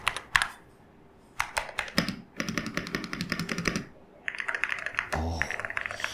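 Fingers typing on a glass-looking computer keyboard, bursts of crisp, rapid, creamy key clacks close up, separated by short pauses, with one louder stroke near the end.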